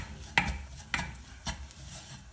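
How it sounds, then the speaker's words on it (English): Chicken curry with coriander powder is stirred in a pan, with three distinct scraping strokes of a spoon against the metal over a soft background sizzle. "And give it a stir."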